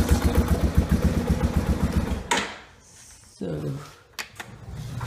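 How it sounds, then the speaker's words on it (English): A dirt bike engine idles after an idle adjustment, a steady low putter for about two seconds, then cuts out, followed by quiet and a few clanks and brief mechanical noises. "You want your bike to idle"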